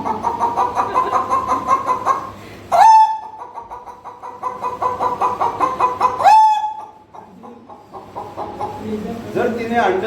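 A man imitates a village rooster's long, drawn-out crow, with two loud crowing phrases rising and trailing off between stretches of clucking-like vocal sounds, close to the microphone.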